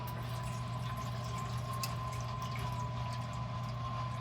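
Water poured into a baking dish set in an oven as a water bath for crème caramel, a steady continuous stream of liquid with a faint hum behind it, no voices.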